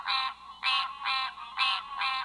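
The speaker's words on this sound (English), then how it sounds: "which is the green tree frog, or sometimes it's called the Cope's tree frog." Green tree frog, also called Cope's tree frog, calling in Muscatine County in spring: five evenly spaced, buzzy croaking pulses in a steady rhythm, close and clear with no other sounds.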